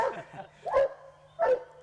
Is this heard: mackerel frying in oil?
no